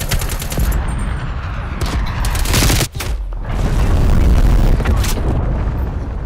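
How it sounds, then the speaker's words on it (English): A cruise missile strike in Call of Duty Black Ops Cold War on the Portage Indiana map: a dense, loud barrage of blasts and rapid explosive crackle, briefly dropping out before another heavy rumbling wave of detonations. "Cruise missile inbound."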